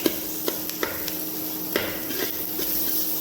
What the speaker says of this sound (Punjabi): ਇਹਨੂੰ ਚੰਗੀ ਤਰ੍ਹਾਂ ਆਪਾਂ ਵਿੱਚ ਮਿਕਸ ਕਰ ਲਾਂਗੇ